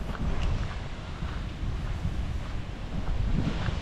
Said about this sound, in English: So it's very windy out here.